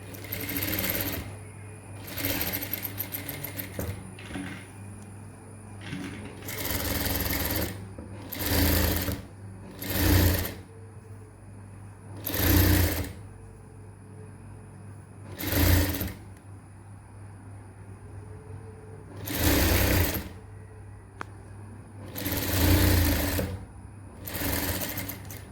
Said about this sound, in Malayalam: ഇനി നമുക്കിത് സ്റ്റിച്ച് ചെയ്തെടുക്കാം